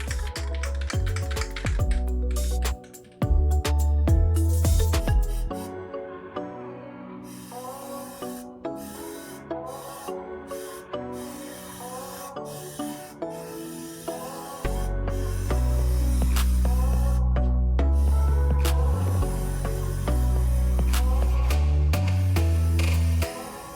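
A spray can lays a Plasti Dip coat on a Toyota 4Runner's rear bumper: long continuous hissing bursts, close and loud, broken by brief pauses and clicks, with music playing underneath.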